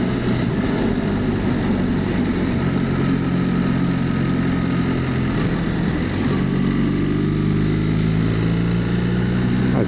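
A BMW R1300 RT motorcycle on the road, its engine droning steadily and continuously under heavy wind rush, with one shift in pitch partway through and no talking.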